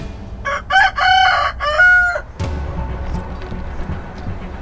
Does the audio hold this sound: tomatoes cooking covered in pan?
no